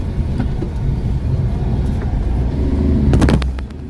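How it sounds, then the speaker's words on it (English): Honda Acty van driving around a block and making a U-turn, heard from inside as a loud, steady low engine and road rumble that swells slightly near the end. "I'm gonna drive around the block real quick. Here's my U-turn radius."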